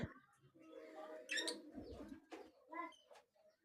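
Pet birds coo softly and repeatedly nearby, with a few chirps and light rustling in between.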